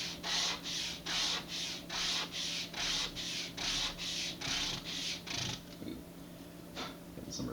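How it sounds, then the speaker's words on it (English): Sandpaper rubs back and forth over a small section of an Estes Black Brant II model rocket part, about a dozen even, rhythmic scratchy strokes close up, then a pause and a couple of lighter passes. "piece of sandpaper and just very carefully, because it's a small section, just go back and forth a couple times"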